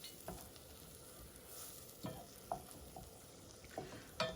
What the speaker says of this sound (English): So the shallots are just gonna cook a little while.